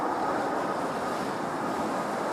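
Strong gusting wind buffets an outdoor microphone at Christchurch Airport, a steady loud roar and rumble filling the whole clip with no other sounds emerging.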